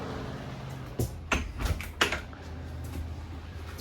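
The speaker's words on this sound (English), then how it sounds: "Alrighty, just grab the door here." An RV entry door on a Bullet 2290BHWE travel trailer is handled and opened nearby, with a few sharp clicks and knocks of the latch and frame, then a quiet background hum.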